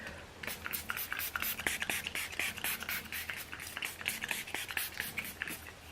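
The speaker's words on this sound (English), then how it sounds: "we're going to lock it down with the Make It Last setting spray" Milani Make It Last setting spray is misted onto a face in a series of short, quick hissing bursts, close and fairly soft, repeating in a steady rhythm.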